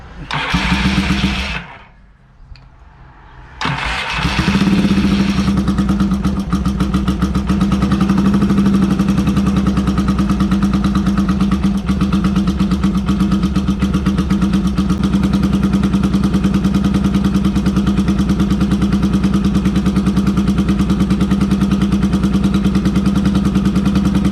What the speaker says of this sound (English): Sometimes you have to turn up the RPMs a little bit to get this to work right